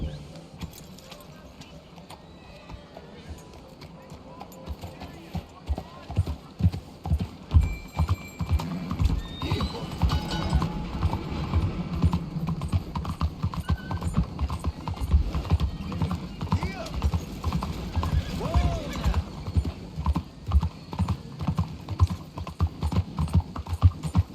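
Horse hooves clip-clop in a steady trotting rhythm in the Red Dead Redemption 2 video game, close and continuous, while a voice talks over the hoofbeats.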